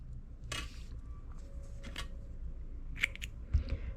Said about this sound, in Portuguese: juntando os fiozinhos e cortando